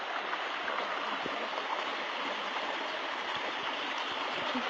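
River water in Trelawny, Jamaica, rushing steadily downstream, a dense, continuous broadband wash of flowing water with no voices, close and evenly loud throughout.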